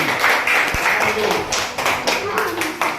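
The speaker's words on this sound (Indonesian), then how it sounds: "Oke, tepuk tangan untuk kelompok protagonis." A classroom group claps briefly for the protagonist team, a short burst of close, rapid hand claps with some taps, and a voice talking over part of it.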